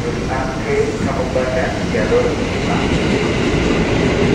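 Commuter train pulling into Buaran station in Jakarta, a steady loud rumble with rail noise and faint squeals, with people talking over it.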